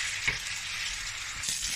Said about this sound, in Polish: teraz wołowinkę wrzucamy na gorący tłuszcz. Mam patelnię już podgrzaną. Słychać jak ładnie skwierczy.